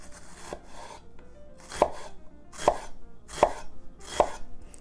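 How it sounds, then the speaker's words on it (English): A knife chops an ingredient extremely fine on a board for an Italian bucatini sauce, giving four or five sharp, evenly spaced strokes over quiet kitchen background with no talk. "we're going to cut this extremely fine"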